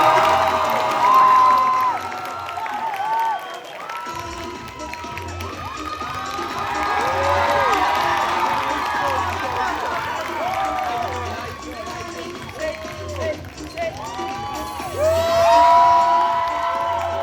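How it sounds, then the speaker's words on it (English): A high school pageant crowd cheers, whoops and applauds loudly for a contestant, with children shouting and a host's amplified voice breaking through the dense, sustained roar. "Give a hand for our next GQ winner, Xavier Martinez"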